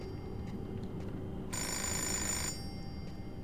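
Electronic telephone ringing inside the Fahrenheit (Indigo Prophecy Remastered) video game: one steady, bright ringing burst lasting about a second, loud over a low ambient game background.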